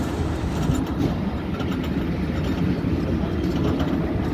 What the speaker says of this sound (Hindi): तो ट्रेन रिवर्स हो रही है।